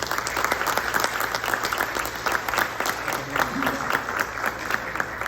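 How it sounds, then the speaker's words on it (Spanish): An audience at an international poetry festival in Puerto Rico applauds two poets with steady, even clapping throughout, a dense continuous patter at moderate volume and a faint murmur of crowd beneath. "Un aplauso"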